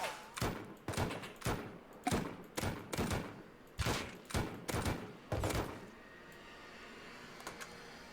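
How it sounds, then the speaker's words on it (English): Rapid gunfire in the survival video game Rust, about a dozen loud, evenly spaced shots in quick succession, then the shooting stops and quieter ambience follows. "I'm shooting and a bear decides to come towards me."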